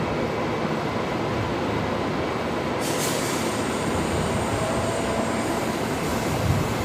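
A Qantas Boeing 737 touches down at night on runway 19 left at Brisbane Airport, arriving from Sydney, giving a steady, broad engine and rolling roar that holds evenly throughout with no voices.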